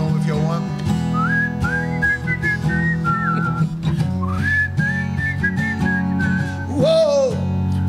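A person whistles a bright, wavering tune in two long phrases over steady backing music.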